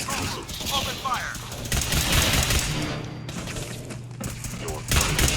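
Fallout 4 firefight with rapid bursts of gunfire and thuds, fairly loud and dense, mixed with game voices and shouting.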